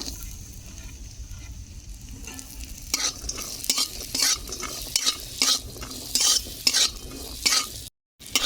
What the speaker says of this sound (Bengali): কাজু কিশমিশ ভাজা হয়ে গেছে তুলে নেব